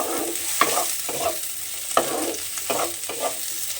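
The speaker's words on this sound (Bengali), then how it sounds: "দিয়ে আবারও একটু নাড়াচাড়া করে একটু ভাজা ভাজা মতো করে নেব।" Chopped tomato sizzles in hot oil in a pan while a spatula scrapes and stirs it in repeated strokes, close and steady, with no voices.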